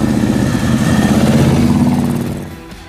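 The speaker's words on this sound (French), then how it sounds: "C'est un tricycle, donc c'est quand même toute une mécanique de moto." A tricycle fitted with a 2-litre SNS motorcycle-type engine runs close by at a Périgord rally club event, a steady loud throbbing idle that fades slightly near the end.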